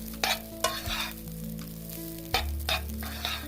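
Veg fried rice with coriander garnish being stirred in a pan, a close sizzle with repeated scraping strokes of the spatula against the metal and a low hum underneath, no voices.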